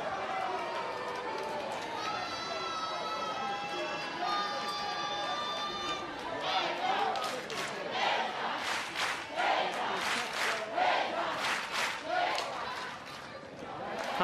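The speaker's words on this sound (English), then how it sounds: "This is a feisty crowd." A lively crowd at an NCAA college softball game between Florida State and Georgia, with chanting, shouting and rhythmic cheering swelling and pulsing under an announcer's voice, loud and busy throughout.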